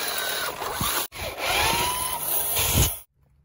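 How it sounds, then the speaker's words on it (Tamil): An electric drill bores holes into metal for a bearing mount on a homemade quad bike build, a whirring burst with grinding bites, a short break, then another run that stops abruptly. "மார்க் பண்ண இடத்துல 4 ஹோல்ஸ் வந்து போட்டுக்குவோம்."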